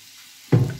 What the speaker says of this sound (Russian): Я сразу начну с пассеровки сладкого перца.